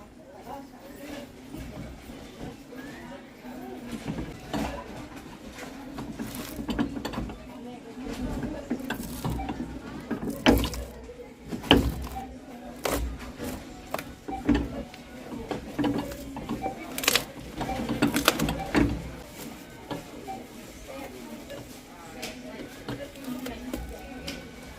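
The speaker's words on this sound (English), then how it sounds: "I'm just going to use a knife and break the contact of the glue that we got there." A knife cuts through old glue to separate the sole from a Loake 771B leather shoe, giving irregular close scraping, cracking and tearing noises throughout, with faint talk in the background.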